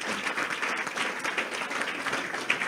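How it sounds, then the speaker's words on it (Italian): A crowd at a Lega political candidate presentation in Rivarolo applauds young candidates with dense, steady clapping that keeps going evenly from start to end. "fare un grosso applauso a questa gioventù"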